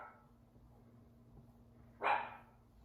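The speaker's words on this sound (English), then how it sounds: "There's my doggie. She wanted to join us too." A single dog bark rings out near the end, short and fairly close, after a quiet stretch with only a low steady hum in the room.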